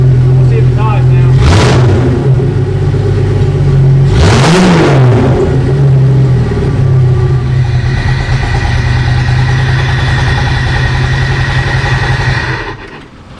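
A newly installed Jeep engine running close by, with two sharp revs near the start and later a steady idle, until the sound cuts off near the end.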